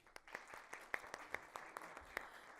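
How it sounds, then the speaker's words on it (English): Sparse audience applause at a public speaking workshop as a colleague is invited on stage, faint and scattered claps with a few sharper ones standing out. "If we give him a round of applause"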